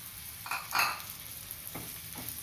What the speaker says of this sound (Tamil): இப்போ பீக்கங்காய் தோல் சீவி வச்சுருக்கிறத போட்டு வதக்கிக்கலாம்.